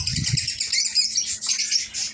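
Caged pet birds chirp continuously in a busy, overlapping chorus of high tweets, fairly close, with a few low thumps early on.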